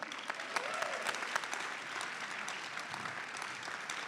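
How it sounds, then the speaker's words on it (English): Steady, fairly quiet applause from the audience at a recovery celebration, a continuous patter of many hands clapping for a recovery advocate being introduced, heard from a distance across the room. "I didn't get that applause, John, let me tell you."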